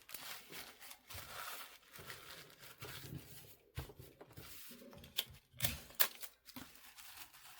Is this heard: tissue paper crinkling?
yes